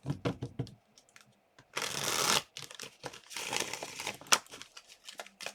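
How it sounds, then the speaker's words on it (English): Tarot cards being shuffled come through as bursts of papery riffling and slapping, with short crisp clicks and gaps between rounds, fairly close and quiet. "Do some shuffling here."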